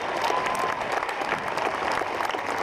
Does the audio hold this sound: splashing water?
no